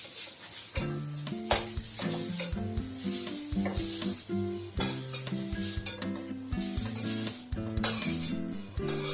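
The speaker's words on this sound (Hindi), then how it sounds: "तेल दऽ के कनिक तेल दऽ के आलू से भूज रहल छी" Potatoes fry in oil in a pan for a Mithila-style cauliflower curry, a steady close sizzle with occasional stirring and scraping beneath prominent melodic background music, with no talking.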